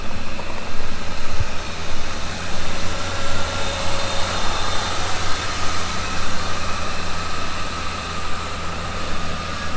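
A Ford 351 Cleveland V8 idles steadily in a rusty P5 LTD donor car after fifteen years dormant, a loud, even broadband rumble with a smooth, continuous drone and no voices over it.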